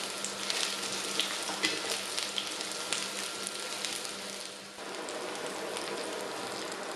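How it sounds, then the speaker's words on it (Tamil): Cashew nuts sautéing in hot oil in a pan for a vegetable pulao give a steady close sizzle with a brief dip near the end, with no voices. "முந்திரியை கொஞ்சம் லைட்டாக கோல் கலராக வெறும் வரைக்கும் வதக்குங்கோ."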